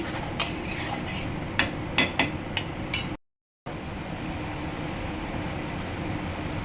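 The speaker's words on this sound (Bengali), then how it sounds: "একটু জিরার গুঁড়ো, একটু পরিমাণ মতো লবণ সব দিয়ে একটুখানি আমি কষিয়ে নিচ্ছি" Spices sautéed in a pan with coriander powder, cumin powder and salt, a bed of sizzle under a few quick clinks and taps of a utensil against the pan, then a brief dropout and steady frying.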